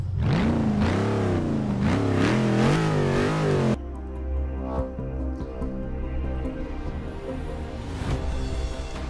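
A Dodge Challenger's engine revs hard through rising and falling gear pulls during a Forza Motorsport 6 night race, loud and close. It then drops to a lower, rougher drone with other cars' engines audible.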